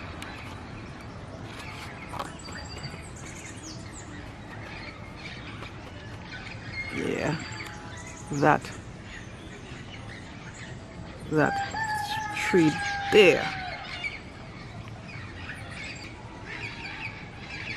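Wild parrots in the trees of a Trinidad backyard let out harsh squawks in scattered bursts, loudest near the middle and toward the end, over a steady outdoor background; a person speaks briefly.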